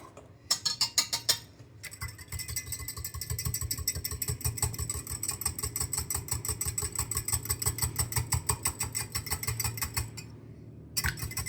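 Half an egg being whisked by hand in a small cup for cheese-scallion scones, a steady rapid clatter of tines against the sides, close and continuous after a few brief starting strokes.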